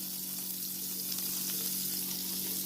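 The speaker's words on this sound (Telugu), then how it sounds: "ఇలా స్టవ్ ఆన్ చేసుకున్నాను, మూకుడు పెట్టుకున్నాను. అందులోని చూడండి బటర్ వేస్తున్నాను." Butter sizzles in a hot kadai on the stove, heated as the base for a restaurant-style methi matar malai curry; a steady, close frying hiss continues evenly throughout, with no talk.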